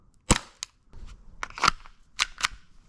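An airsoft pistol fires BBs in a few close, sharp snapping shots, spaced irregularly with short gaps between pairs, and no talking.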